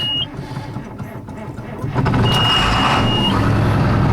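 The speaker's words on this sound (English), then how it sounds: "you turn on the key. Half throttle, and see what happens" A diesel truck engine starts at half throttle while rolling coal, a low rumble swelling to a loud, steady roar halfway through, with a thin electronic beep heard early and again over the engine.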